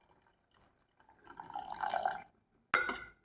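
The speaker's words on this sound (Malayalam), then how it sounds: "ഇനി ഇതിലേക്ക് ഒരു നെല്ലിക്ക വലിപ്പത്തിൽ പുളി പിഴിഞ്ഞ വെള്ളം കൂടി ചേർത്ത് കൊടുക്കാം." Tamarind water, squeezed from a gooseberry-sized lump of tamarind, is poured into a pot of okra sambar. Soft dripping builds into a steady close pour, then a brief louder splash near the end.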